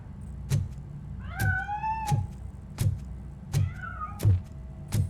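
A cat in the video game Robocop Rogue City meows twice with rising, drawn-out cries, set among regular sharp thumps and game ambience, with no speech over it.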